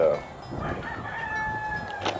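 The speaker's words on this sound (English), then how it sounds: "I got too many roosters, not enough hens." A rooster crows once on a small backyard farm, a drawn-out cock-a-doodle-doo at moderate distance over faint outdoor background noise.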